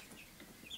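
Three-week-old chicks kept indoors in a bathroom give faint, soft clucks and peeps throughout, quiet and steady with no talking.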